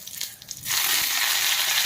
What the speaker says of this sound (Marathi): तेल गरम झाल्यामुळे मोहरी तडतडली आहे